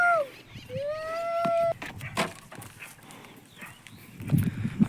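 Bullocks' hooves clopping on hard ground at a slow walk as they are led to water, with birds chirping and whistling nearby and some shuffling movement toward the end.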